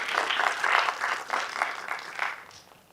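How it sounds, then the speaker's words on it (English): Audience applause at a community gathering, a steady wash of many hands clapping that swells and then tapers off over a few seconds, with no voices on top. "Round of applause."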